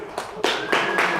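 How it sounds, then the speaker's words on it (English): A short burst of applause at a Kotlin London tech talk, with a few scattered hand claps swelling into brief clapping, fairly close. "There was an applause."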